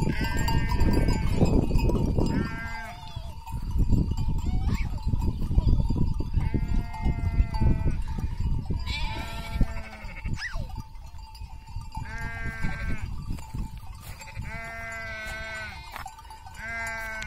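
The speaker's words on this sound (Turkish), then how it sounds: "Bak bak Bahar, en son sürüde bak, anneleri yavruları var bak" A flock of sheep with ewes and lambs bleats repeatedly in a field, calls overlapping near and farther off, with a cowbell clanking and rustling movement throughout.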